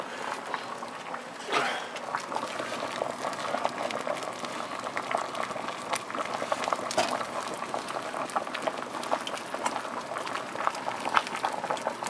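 Asparagus and green beans boiling in water inside an electric tea kettle, a loud, continuous bubbling and rolling churn lasting throughout, close to the microphone with no talking.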